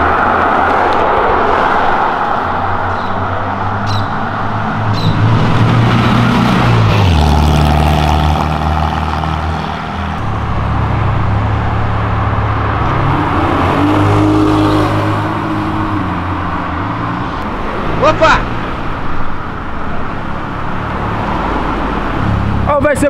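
A tuned 510 hp Honda Civic Si revs and accelerates along a city avenue, its loud engine rising and falling through several pulls with gear changes, while voices talk over it.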